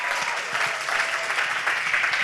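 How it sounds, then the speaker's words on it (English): Audience clapping for a sponsor at a pitch competition event, a dense, lively round of many hands applauding continuously and fairly close. "Go ahead and clap those hands."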